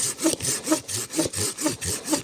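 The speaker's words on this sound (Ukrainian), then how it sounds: "А потім вирішила я перевірити цю пилку, що я замовляла на тему UA. Нічого ріже." A new hand saw cutting through wood outdoors, a close rasping stroke repeated about eight times in a steady back-and-forth rhythm, each pass rising and falling, with no talking.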